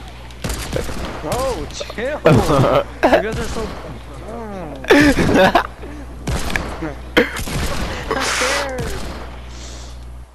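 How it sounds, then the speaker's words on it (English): Bursts of gunfire in the video game Fortnite, several clustered rapid volleys crackling close, mixed with excited voices of players talking and exclaiming over the shots. "Somebody's shooting."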